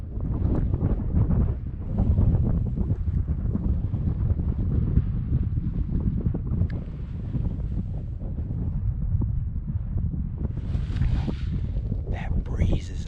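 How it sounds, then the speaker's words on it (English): A cold breeze blows across a Colorado hillside, rough steady wind buffeting the microphone in a low rumble throughout, with faint rustling near the end. "That breeze is ice cold."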